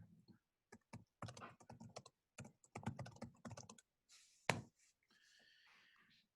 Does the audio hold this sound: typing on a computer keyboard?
yes